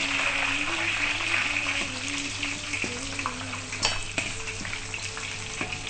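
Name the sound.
frying sweet potato leaves in oil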